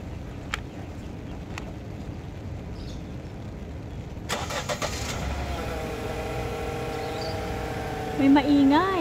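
A Nissan Almera car engine starts partway through, its steady running tone following the crank, with a rising rev near the end, heard at moderate distance.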